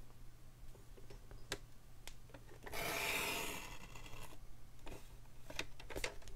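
A paper trimmer blade slides across card, giving a soft sustained rasping swipe in the middle amid scattered light ticks and taps, all quiet and close.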